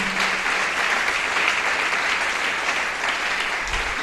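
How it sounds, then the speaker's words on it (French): A congregation at a church service bursts into sustained applause, a dense, steady wash of clapping from many hands filling the room for the whole stretch. "Est-ce qu'on peut acclamer pour la gloire de Dieu?"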